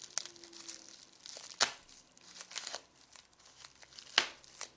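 Adhesive tape being peeled from an opened microfauna delivery package, crackling and crinkling in quiet bursts with a few sharper rips, close and alone.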